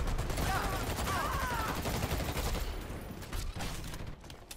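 Sustained minigun fire rattles through a Dirty Bomb match, a rapid continuous stream of shots that thins into scattered bursts as the gunfire moves away, heard among other battle noise.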